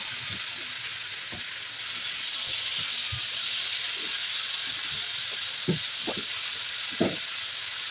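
Sliced squash sizzles steadily in a hot pan, a continuous bright frying hiss with occasional soft pops and stirring clicks, close and fairly loud throughout.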